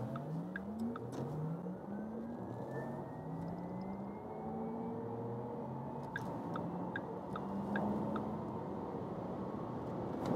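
A rear-wheel-drive Porsche Taycan accelerates from 30 km/h, its electric drive giving a steady whine that rises in pitch over about ten seconds, with road and wind noise underneath and no talk.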